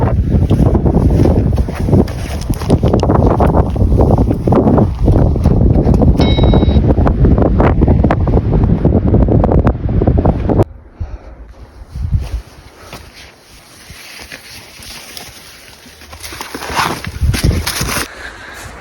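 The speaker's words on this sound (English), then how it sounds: "It's getting windy" Strong wind buffets and roars across the microphone high on snowy Pikes Peak near the tree line, loud and gusty for ten seconds before dropping to a softer, fluctuating rush that swells again toward the end.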